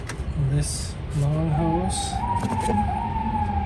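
Emergency vehicle siren passing outside, a rising and falling wail that grows across the clip, heard at moderate distance beneath someone talking close by during an alternator replacement on a Honda CR-V.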